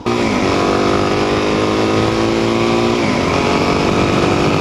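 A Suzuki DRZ 400 motorcycle engine runs loud and close, its tone rising and falling through a couple of revs over a steady rumbling idle.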